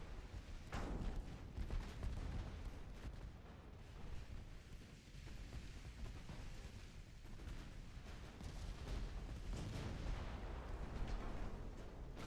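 Naval battleship guns firing in Ultimate Admiral Dreadnoughts, a series of deep booming salvos and distant explosions rolling over a low rumble, spaced irregularly, faint and far-off in the mix.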